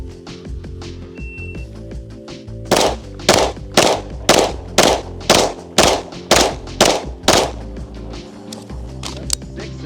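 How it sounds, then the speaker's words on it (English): Shadow Systems XR920P pistol fired rapidly, ten sharp loud shots at a quick, slightly uneven pace over about six seconds, outdoors at a range, with steady background hum between shots. "We'll do the test, which is 10 shots in 10 seconds or less."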